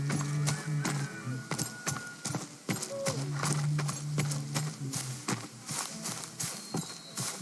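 Horses in the video game Robin Hood: Sherwood Builders clip-clop in a steady walking rhythm of hoof knocks, with occasional snorts and a short whinny, close and clear.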